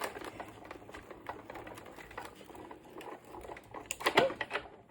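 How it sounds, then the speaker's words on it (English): Sizzix Big Shot Plus die-cutting machine cranked by hand, its plate rolling through with a run of quiet clicking, ratcheting taps and a brief louder clatter near the end. "We put it on the plate and we roll it through our machine here"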